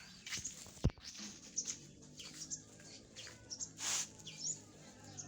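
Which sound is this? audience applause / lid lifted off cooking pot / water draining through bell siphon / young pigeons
young pigeons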